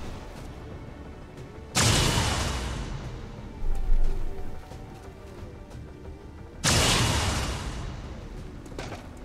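Gunfire in the video game XCOM 2 comes as two heavy booming blasts several seconds apart, each rolling off into a rumbling tail over a low game background.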